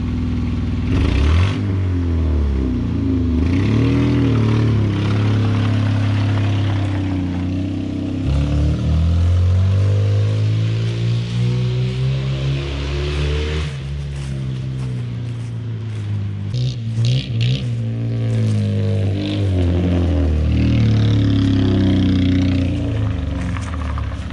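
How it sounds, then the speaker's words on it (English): Race car engine with a major exhaust leak at the front, revved repeatedly up and down in rising and falling sweeps, loud and close, with a rattly, raspy edge and no talk over it. "it's got a major exhaust leak now in the front too"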